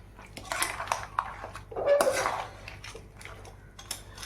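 Crab masala being stirred and sautéed in a pan, with scattered metallic scrapes and clinks of a spoon against the cookware, irregular and moderately quiet, with one louder clatter partway through.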